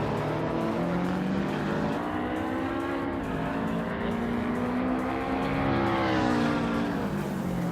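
A 1998 Saab 9-3 Aero Turbo races in a driving game, its engine droning loudly and continuously with a pitch that climbs and dips as it accelerates and shifts.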